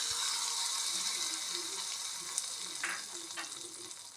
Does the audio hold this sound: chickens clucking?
no